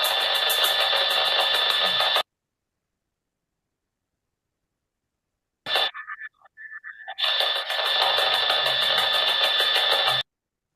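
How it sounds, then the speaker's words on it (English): Digital signal resembling a dial-up modem, loud harsh buzzing bursts of screeching tones and static that cut off abruptly, go silent, return with a brief warbling fragment, then resume steadily. "Almost sounds like a dial-up modem."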